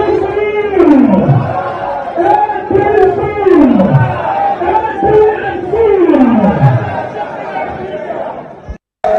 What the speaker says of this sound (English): Okay, so it's a mammoth crowd, yeah. And the excitement is palpable.